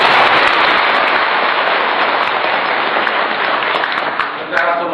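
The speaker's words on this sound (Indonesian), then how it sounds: "Tepuk tangan dulu." An audience at a religious gathering bursts into loud, dense applause that continues steadily for several seconds before thinning slightly at the end.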